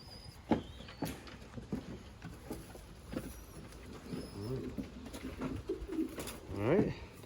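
A Clausen Hubin racing pigeon coos softly in a loft, with low burbling calls scattered through the stretch and a louder coo near the end, amid faint rustling and talk.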